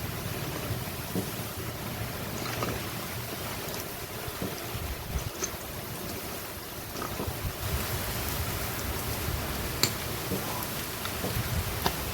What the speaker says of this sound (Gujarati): વરસાદ છે ને ભાઈ બહુ છે અટાણે